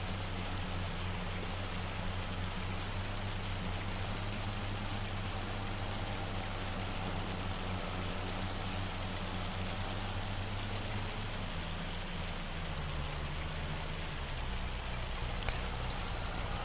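Hail pelting down during a storm in the farming game Farming Simulator 25, a dense, steady hiss and patter lasting throughout with a low rumbling underlayer that shifts near the end.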